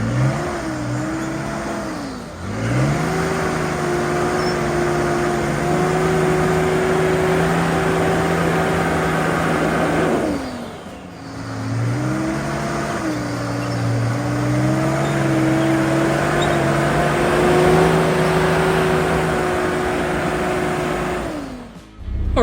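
A Nissan Patrol GQ 4x4 pulls hard in second gear, the engine note rising steadily in two long revving runs separated by brief drops, loud and close throughout.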